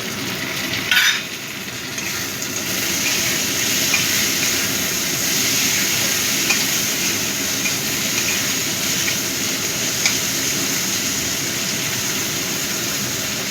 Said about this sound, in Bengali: পেঁয়াজটা ভালো মতো ভাজা হয়ে গেছে। এবার টমেটো কুচিটা দিয়ে দিলাম।